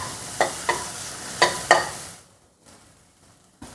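Tomatoes sautéed and stirred in a pan while cooking barnyard millet upma: a steady sizzle broken by four sharp spoon clacks against the pan, after which the frying drops away to a quieter hiss. No one speaks.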